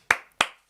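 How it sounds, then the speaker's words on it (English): A person claps their hands three times, close and sharp, with evenly spaced claps that each fade quickly into silence. "I clap for you."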